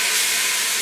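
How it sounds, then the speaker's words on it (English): Beef browning in an Instant Pot gives off a steady, close, broadband sizzle and hiss that holds evenly throughout with no talking. "I'm going to take the time to brown 2 sides, or sear 2 sides"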